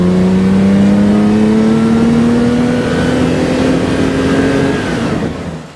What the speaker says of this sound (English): 1972, Ferrari 365 Daytona Spider.